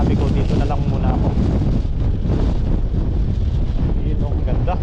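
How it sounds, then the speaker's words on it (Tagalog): Strong wind at sea roars steadily and loudly across the microphone in a constant, dense rush, with wave and boat noise blended underneath. "Tsaka medyo malakas po yung hangin ngayon."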